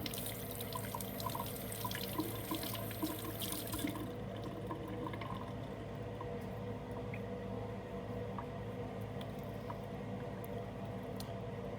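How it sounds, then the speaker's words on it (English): Tap water runs into a lab sink while a stirring rod is rinsed under it, a continuous close splashing flow that is stronger for the first few seconds and then softer. "I am going to rinse off my stirring rod."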